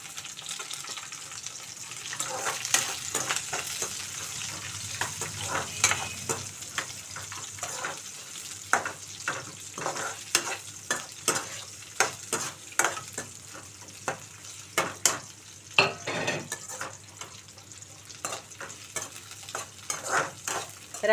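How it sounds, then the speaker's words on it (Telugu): Chopped onions and green chillies sizzle steadily in a pan for a Telugu okra and tomato curry, with repeated scraping and stirring strokes of a spoon and occasional light clatter. "ఇప్పుడు మనం కట్ చేసి పెట్టుకున్న ఉల్లిపాయలు పచ్చిమిర్చి వేసేసుకుందామండి."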